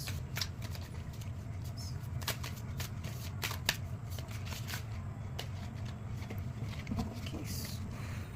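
Tarot cards are shuffled close by in a quiet room, giving a soft, continuous riffling patter with small irregular snaps throughout.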